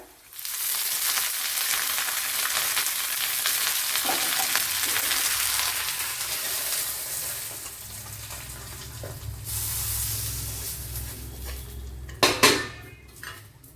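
Dried red chillies and curry leaves frying in hot oil in a pan, a steady loud sizzle with occasional utensil clinks and a few sharper metallic knocks near the end.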